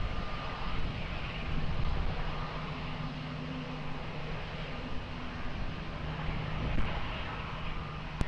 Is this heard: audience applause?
no